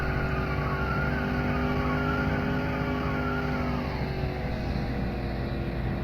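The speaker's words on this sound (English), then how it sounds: "Oh yeah, we're spinning those front tires." A car in the video game The Long Drive spins its front tires, giving a continuous loud engine drone with layered squealing tones that shift in pitch, steady throughout.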